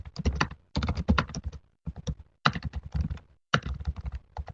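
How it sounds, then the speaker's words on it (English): A computer keyboard clatters in quick bursts of typing, close and clear, separated by short pauses, with no one speaking. "And then see when I'm typing"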